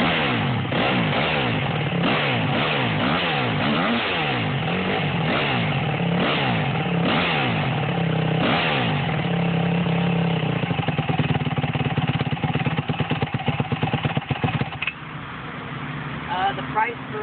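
A Honda CRF150R dirt bike fitted with a Two Brothers exhaust starts and runs close by, revving repeatedly in rising and falling sweeps, then settling into a choppy, pulsing idle.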